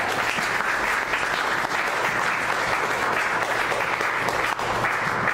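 A church congregation applauds in sustained, dense clapping that stays steady and loud for the whole stretch, with no break and no voices rising above it.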